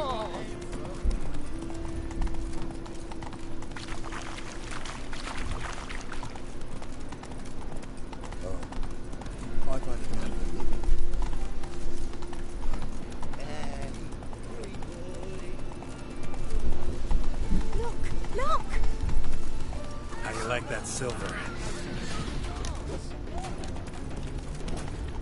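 Horse hooves clip-clopping at a gallop while riding through a crowd in The Witcher 3: Wild Hunt, a steady rhythmic beat under continuous background music, game sounds and speech.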